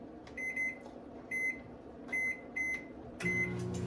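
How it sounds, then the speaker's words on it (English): Microwave oven warming a cup of milk, giving a series of clear electronic beeps in short bursts over a low steady hum, fairly quiet and close. "I have milk in a cup, and I'm just gonna microwave it so that just to bring up the temperature"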